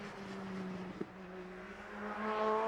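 Honda touring race car from the Honda America Racing Team circling a track, its engine a steady droning note that rises in pitch toward the end as it accelerates, with a brief knock near the middle and no voices.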